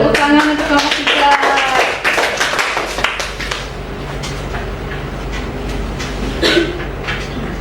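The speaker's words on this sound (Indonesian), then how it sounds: "tepuk tangan untuk kelompok 3" A classroom of students claps for group 3 during a micro-teaching practice lesson, a dense burst of applause that starts loud and thins out toward the end, with some voices mixed in.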